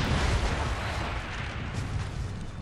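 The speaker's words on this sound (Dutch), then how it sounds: "Oké, sikke explosie." A big in-game explosion in Assassin's Creed Syndicate, heard as a sustained loud roaring rumble that fills the whole stretch without pause.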